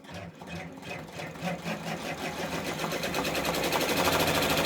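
A multineedle embroidery machine stitches out a freestanding bridge piece, a steady, close mechanical whirr with fast rhythmic needle clatter that grows louder and speeds up as it runs.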